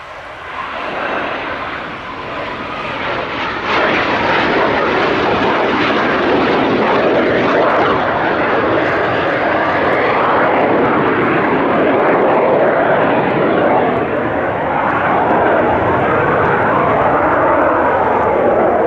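Two BAC Strikemaster jet aircraft flying past at the Duxford Summer Airshow, a loud sustained engine roar building quickly and holding steady as the pair approach and break overhead.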